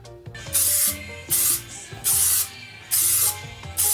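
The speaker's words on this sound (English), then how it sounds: "using 3M spray adhesive made applying it to the partition a breeze." Bursts of 3M spray adhesive hissing onto a partition panel inside a 2020 Ford Transit van build, four loud sprays of about half a second each, separated by brief pauses, with a faint musical background underneath.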